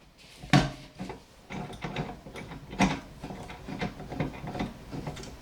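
A tumbler heat press being opened and its pressure adjusted gives off a series of mechanical clicks and ratcheting clunks, close and moderately loud, with sharper knocks near the start and middle.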